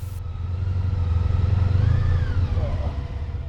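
A motorcycle rides along the N-2 road in Portugal, its engine a steady close drone with a brief rise in pitch partway through, heard alone without talk.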